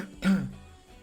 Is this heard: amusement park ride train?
no